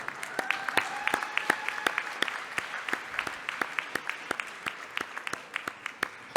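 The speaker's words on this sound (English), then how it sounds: "Let's clap for the speech." Audience applause at a university graduation ceremony, with individual claps standing out sharply over a thinner crowd clapping, moderately close and continuing steadily.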